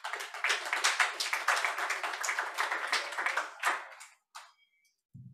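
An audience applauds a newly introduced speaker, a biochemistry professor, at a lecture hall event: several seconds of dense, steady clapping close by, tapering off into a few scattered claps and then quiet.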